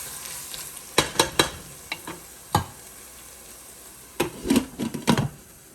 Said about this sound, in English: So I'm gonna put my onions in the oil.